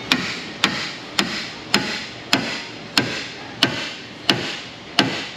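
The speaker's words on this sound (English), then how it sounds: "So I'm gonna hammer a pry bar in" Sharp metallic hammer strikes drive a pry bar in during a Honda strut job, landing one after another at a steady, even pace, about nine blows with ringing decay between them.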